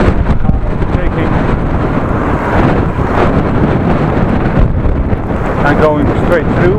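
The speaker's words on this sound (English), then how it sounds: "Back into the wind." Heavy wind roars steadily against a cyclist riding in a polo shirt on a road, a loud, continuous broadband rush buffeting the microphone throughout.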